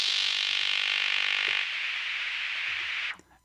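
Noise from a Crumar Spirit synthesizer plugin hisses as a bright, steady wash that thins partway through, then cuts off abruptly near the end, leaving a brief faint tail.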